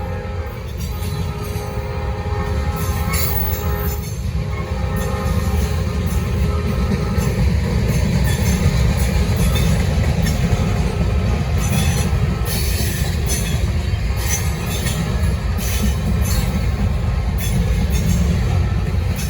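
Norfolk Southern freight trains roll steadily past in the Charlotte District, a loud continuous rumble of railcars with clickety-clack wheel beats and occasional wheel squeal, close by and sustained throughout.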